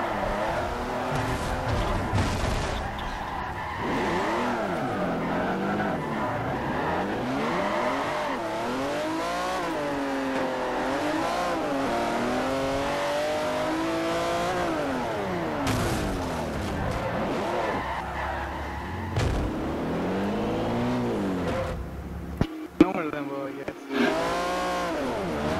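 Race cars in the video game Forza Motorsport 4, engines revving and whining with sweeping pitch changes as gears shift, continuous and loud, with a voice talking over them at times.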